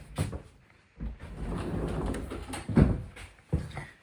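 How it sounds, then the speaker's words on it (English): An old sliding door in an abandoned Japanese house rolls along its track up close, giving a rumbling scrape with sharp knocks as it starts and stops. "Lovely sliding door."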